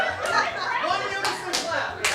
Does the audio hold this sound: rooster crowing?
no